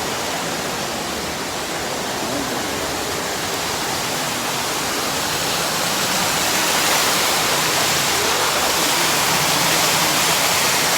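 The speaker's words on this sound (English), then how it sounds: "this is Chenku Waterfalls here at Dodowa in Greater Accra Region" Chenku Waterfalls at Dodowa in Ghana's Greater Accra Region, a steady, loud, close roar of falling water, broadband and unbroken throughout with no voices.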